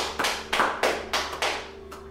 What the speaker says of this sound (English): Can we get a round of applause for Coach Lane?